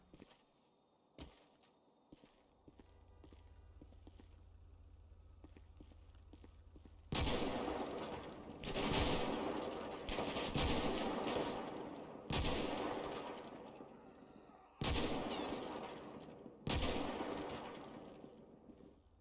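Bursts of gunfire ring out in a GTA V zombie mod, a few isolated shots early on giving way to loud, repeated automatic volleys with sharp cracks, separated by brief pauses, and no speech on top.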